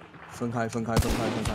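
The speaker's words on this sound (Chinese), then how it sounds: "奇怪，我们右边怎么还有枪声？" Gunfire in the multiplayer shooter Hunt: Showdown, with a couple of sharp, loud shots near the end cracking over close, urgent speech.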